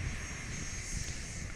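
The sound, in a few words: G280 jet taxiing onto the runway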